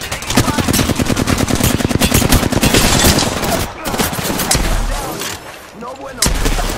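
Rapid automatic gunfire in a shooter video game, loud and close, with dense bursts of shots. Near the end it thins into a few heavy thuds and scattered shots.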